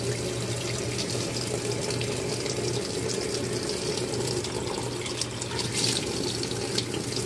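Water pouring steadily into a Giantex portable washing machine right after it is started, a continuous, fairly loud rushing flow with a low hum beneath and no pauses.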